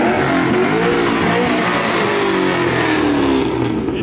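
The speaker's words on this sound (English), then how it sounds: "This car's so loud." A very loud car revs hard and burns out while leaving a car show, the engine roaring at close range with rising and falling pitch and no talk.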